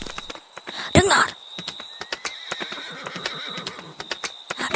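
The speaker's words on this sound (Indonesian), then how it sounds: "Derap kuda." Horse hoofbeats in a radio drama patter in an irregular, fairly close rhythm, with one louder burst near the start that may be a whinny, and no speech.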